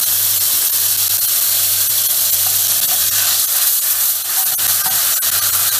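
Grated tomato sizzling in hot oil in a pan, a loud constant hissing spray of frying that stays close and steady throughout, with no one speaking.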